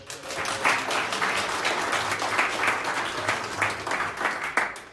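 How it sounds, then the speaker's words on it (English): A live audience at a blockchain talk-and-trade evening in Vilnius bursts into steady, dense applause that fills the room for the full stretch, with many hands clapping at once and no voices standing out. "So again, applause."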